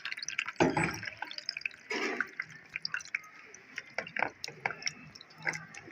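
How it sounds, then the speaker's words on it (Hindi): Water poured from a vessel onto strained chenna in a cloth for rasgulla, splashing in uneven bursts with trickles and drips between them, close and moderately quiet with no speech. "अब हम इसमें डालेंगे पानी, ताकि ये ठंडा भी हो जाए और इसकी खटास भी निकल जाए।"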